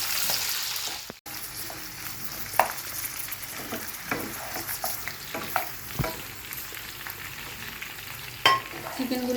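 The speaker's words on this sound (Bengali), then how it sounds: "আর কটা কাঁচা লঙ্কা ভালো করে নাড়িয়ে নিয়ে এটাকে" Green chillies and capsicum sizzle in a pan for chilli chicken while a spatula stirs them, giving soft crackling frying noise broken by irregular scraping strokes and a few sharper knocks, with no talking.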